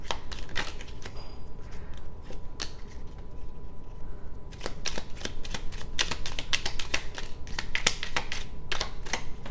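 Playing cards being shuffled by hand, a series of sharp riffling bursts and crisp clicks, close and fairly loud, growing busier toward the end with no voices over it.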